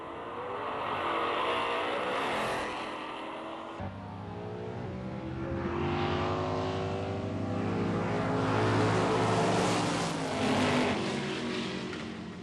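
A 1964 Pontiac GTO and a 1963 Ford Galaxie 427 drag racing, V8 engines roaring loud and steady, then shifting with a sudden drop at launch into a rising, sustained high-power howl as the cars run side by side.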